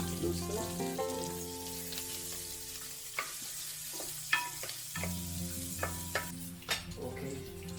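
Onions sizzling and frying in a pan for ginataang pagi with garlic, a steady close sizzle broken by several sharp stirring scrapes and clinks, with no talking.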